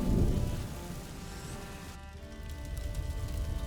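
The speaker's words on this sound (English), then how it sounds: "would you mind if we get out of the rain, please?" Rain falls in the video game A Plague Tale: Innocence, a steady, moderate wash with a deep rumble early on that fades, and no voices heard.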